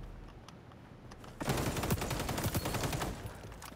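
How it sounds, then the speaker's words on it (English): Desert Eagle pistol fire in the XDefiant video game, arriving as a loud burst of rapid overlapping gunshots after a quieter opening that continues to the end, with no speech over it. "Got him with the deagle."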